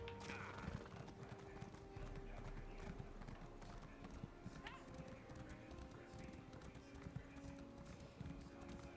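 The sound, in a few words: horse galloping in The Elder Scrolls Online video game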